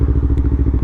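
A motorcycle with a full aftermarket exhaust and richened fueling, its engine thumping in a fast, even low pulse, loud and close with no talk.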